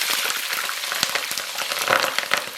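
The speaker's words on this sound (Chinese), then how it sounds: "咱们把葱姜放到里面爆香" Scallions and ginger sizzle in hot oil in a wok, a steady crackling hiss with scattered sharp pops throughout, close and fairly loud with no talk.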